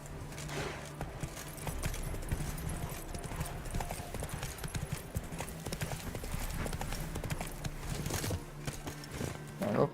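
Hooves of Roach, a horse in The Witcher 3 video game, clip-clop steadily in a trotting rhythm over a continuous low game ambience, with a brief whinny-like sound and no talk.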